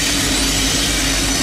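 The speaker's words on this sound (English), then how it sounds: "here we have a CN train coming from the Flint sub heading south on the Holly sub" A loud, steady roar of a passing CN autorack and intermodal freight train led by locomotives 8930 and 8015, rumbling and hissing continuously up close with no pauses or voices, in Durand, Michigan.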